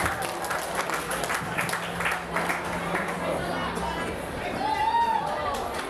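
A crowd claps and cheers for a performing group at a school golden jubilee night, with steady applause and chatter throughout and a voice over it.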